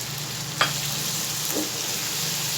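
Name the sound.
coriander, crushed red chili and spices frying in pan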